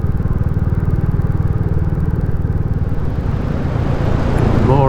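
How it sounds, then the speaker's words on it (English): A Royal Enfield Classic 350 motorcycle engine burbles steadily with a pulsing low rumble while engine braking downhill, the note staying fairly even as it rolls along, heard close without talk. "More engine braking as we're going down here."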